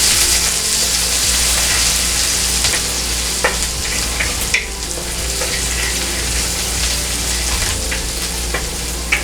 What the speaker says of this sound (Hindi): बचा हुआ अदरक लहसुन का पेस्ट ऐड करेंगे और बची हुई हरी मिर्च। इनको हम हल्का सा भून लेंगे।